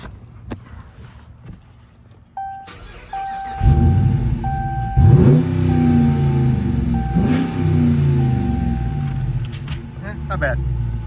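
A 2023 Dodge Challenger starts up with a chime dinging in the cabin, then the engine catches and idles with a deep rumble, blipping through two strong revs before settling, heard close up with occasional talk over it.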